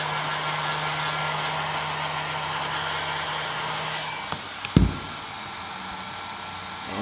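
A heat gun warms vinyl wrap on a Ford Bronco center grab handle, giving a steady, close airy blower roar with a low hum that cuts off near the end, followed by a couple of brief clicks and knocks.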